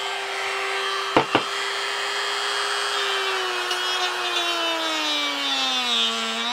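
Dremel rotary tool working on a cast African wildcat skull, a loud close whine holding a steady pitch, interrupted by two quick knocks early on, then slowly dropping in pitch as it bears down.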